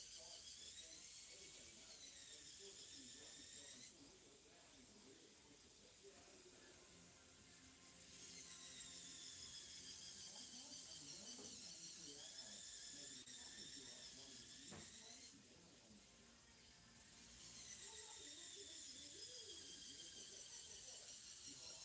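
A small electric hand drill whirs in three long bursts while drilling parts for a model ship of HMS Victory, its high-pitched motor whine rising and falling, with short quieter pauses in between.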